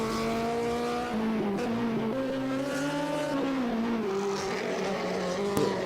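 A Peugeot 306 race car at a European Hill Climb Championship event, its engine screaming loudly close by and shifting pitch through gear changes as it drives past. No one speaks.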